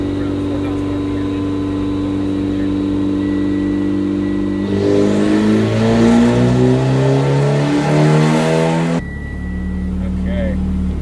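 Turbocharged Mitsubishi Evo X on a dyno making a hard throttle pull toward about 4,000 RPM, engine note climbing loudly in rising harmonics for several seconds before the throttle snaps shut back to idle.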